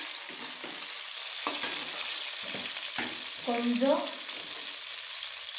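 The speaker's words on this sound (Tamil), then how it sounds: "வெங்காயம் நல்லா வணங்கட்டும்." Onions frying and being stirred in a pan for coriander rice, a steady sizzle with scraping strokes and a brief rattle of a utensil against the pan, one word spoken quietly.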